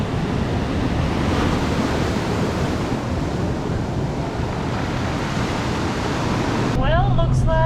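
Ocean surf pounding a beach at El Zonte, El Salvador, at high tide: a loud, continuous wash of breaking waves with wind buffeting the microphone, and a voice beginning to speak near the end.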